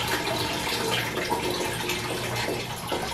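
Water, used in home film developing with coffee, is poured steadily into a bucket, making a continuous close splashing rush that holds even throughout.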